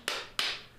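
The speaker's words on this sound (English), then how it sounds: "We're just light taps in the air, let the hammer's own inertia" Light hammer taps made in the air while setting a new handle on a rounding hammer, two sharp, bright knocks about a third of a second apart, close and clear with brief ringing decay.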